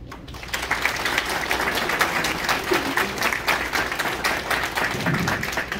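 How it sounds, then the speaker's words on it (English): Audience applause fills a community heritage-month event at a police college, a dense steady clapping from a seated crowd that carries on loudly and evenly throughout. "they deserve a round of applause"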